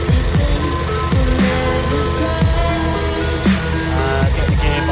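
Smooth, steady idle of a Volkswagen Golf R engine on its first heat cycle, a continuous loud low drone with even firing and a few slight rises in revs, close by with no talk.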